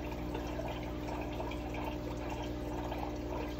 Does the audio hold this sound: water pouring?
yes